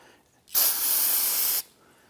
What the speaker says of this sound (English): You want to spray these with some solvent